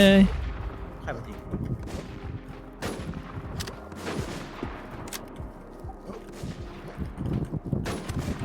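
Gunfire in the battle royale game Warz II: a rapid series of sharp shots and booming blasts, some near and some distant, scattered irregularly throughout, with bits of voice chat underneath.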